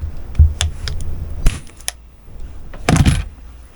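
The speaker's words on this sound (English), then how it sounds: "And hope your staples go in and hold." A handheld staple gun fires into a fabric-covered cushion on a folding chair, giving three or four sharp, close metallic clacks spaced out, with faint handling noise between them and no talk.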